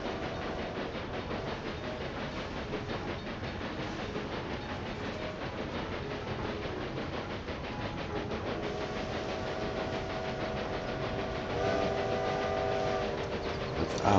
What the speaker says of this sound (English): there are multiple trains behind me making all that noise